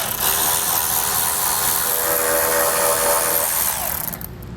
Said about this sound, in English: So with our 7mm, we'll go ahead and get these removed.